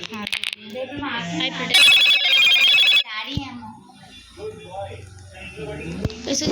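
A phone ringtone chimes for about a second amid close, lively talk from children and adults.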